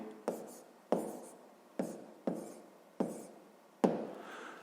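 A pen writes on paper at close range, with six separate scratchy strokes spaced roughly evenly over nearly five seconds, each fading quickly.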